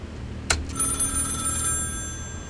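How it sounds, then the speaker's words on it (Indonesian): A telephone rings with a sharp electronic trill that starts abruptly and holds for a second or two before cutting off, close and clear over faint background hum, heard during a Minecraft reaction. "Oke, telepon."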